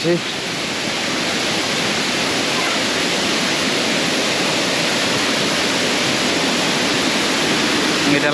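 Sanaghagara Waterfall in Keonjhar, Odisha roars as a loud, continuous, broadband rush of falling water that stays steady and dominant throughout.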